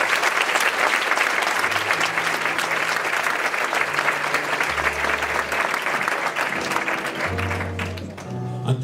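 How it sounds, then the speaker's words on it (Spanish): A theatre audience applauds steadily throughout at a book presentation event, dense continuous clapping with a few low tonal notes creeping in near the end. "yo pediría un aplauso sincero"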